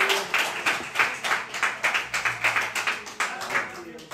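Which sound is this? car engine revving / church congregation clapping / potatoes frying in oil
church congregation clapping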